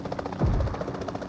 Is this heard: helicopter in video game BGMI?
yes